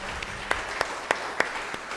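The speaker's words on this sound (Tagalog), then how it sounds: "Pwede ko ba marinig ang palakpak ng mga nagpapasalamat" A church congregation claps in thanksgiving, sparse separate claps at a steady pace, about six distinct hits over a couple of seconds, fairly faint and somewhat distant.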